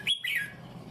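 Short, bright chirps from a grey female bird being tamed in a cage, two quick calls close by in a quiet setting.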